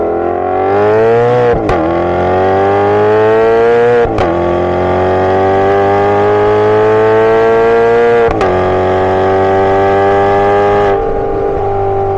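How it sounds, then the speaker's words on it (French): A Maserati GranTurismo's Ferrari-built V8 revs loudly and up close, its rich harmonic engine note climbing steadily through long pulls, with brief sharp breaks between them as the pitch resets. "juste pour entendre le bruit du V8 Ferrari chanter"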